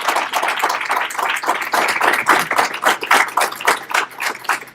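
A crowd at a congressional debate applauds steadily, with many hands clapping together in a dense, sustained burst of applause.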